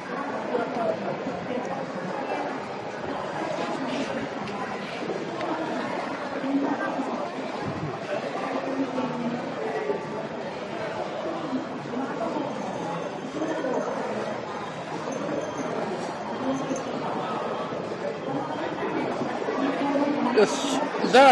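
Interior of a moving JR train in Tokyo, a continuous low rumble of the carriage with a murmur of passengers chatting throughout and a nearby voice talking over it.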